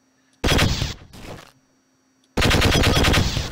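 A rapid-fire gun in Half-Life blasts in loud, close bursts: a short volley, a brief weaker burst, then a longer sustained stream of fire after a pause.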